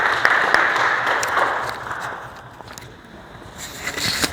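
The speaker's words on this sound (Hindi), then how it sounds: "एक बार उनके लिए जोरदार तालियां" Audience applause fills a hall at a National Safety Week day program, a dense, steady wash of many hands clapping together that dips slightly midway and swells again toward the end, with no voices over it.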